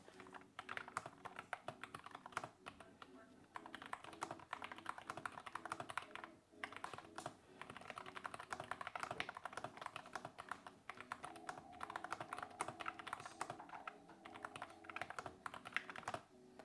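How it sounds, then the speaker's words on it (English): Steady, quiet typing on a mechanical computer keyboard, with rapid close-up clicks and clacks running continuously without pause. "I'm gonna be quiet now so that you can actually hear this keyboard."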